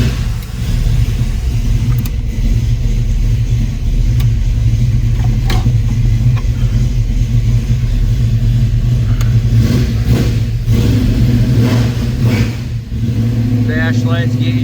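A 1974 Dodge Challenger's 360 V8 rumbles loud and close, idling steadily with a few sharp revs blipping through, heard alone without talk.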